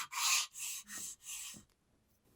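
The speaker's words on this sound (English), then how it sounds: "Then hone the bottom face about 1/4 inch from the end" Honing the bottom face of a metal hand plane lever cap: three steady rasping strokes, close and evenly spaced, then a short quiet pause.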